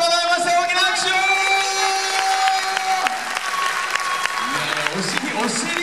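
Audience applause and cheering swell under loud music, with scattered whoops and shouts from a lively crowd.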